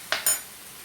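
Two quick scraping strokes of a utensil stirring minced beef samosa filling in a pan, short and close, with a faint sizzle trailing off.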